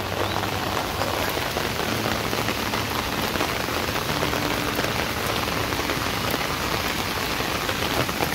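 Heavy monsoon rain pours down steadily in the Konkan region during flooding of the Kajali river, a dense, unbroken roar of rain on surfaces lasting throughout with no voices.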